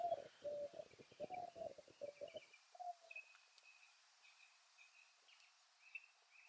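A bird gives repeated low cooing calls like a pigeon or dove, a rapid series at first and then sparser calls, faint against a quiet background with no talk.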